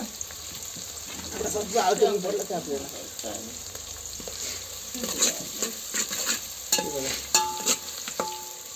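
Onion and curry leaves fry in oil in a pan over a wood-fired stove, a steady low sizzle with stirring scrapes and a few utensil clinks, while someone talks over it.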